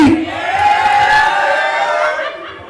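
Audience at a stand-up comedy tour show cheering and whooping as a crowd, a loud sustained roar that swells and then fades near the end.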